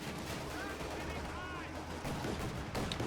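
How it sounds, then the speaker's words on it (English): In the Company of Heroes 2 strategy game, a .50 cal machine gun fires on a Luchs light vehicle in a battle scene, the gunfire mixed with other combat noise and a commentator talking over it. "The Lux getting fired up on by the 50 cal"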